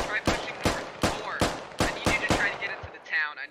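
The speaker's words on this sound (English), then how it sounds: "Let's take some shots. Open fire." Rapid gunfire from the military shooter game Squad, with eight sharp, evenly spaced shots ringing out at a steady rhythm, moderately loud and a little distant.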